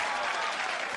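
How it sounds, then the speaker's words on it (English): Dense, steady clapping from a comedy show audience fills the whole moment, loud and continuous with no voices on top. "And there's just clapping."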